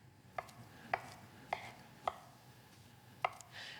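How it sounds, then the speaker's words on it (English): A knife chops peppers and mushrooms on a board while omelet ingredients are prepared in a home kitchen: six crisp, close knocks land at an uneven, unhurried pace over quiet room tone, with no talking. "Chopping is my favorite part."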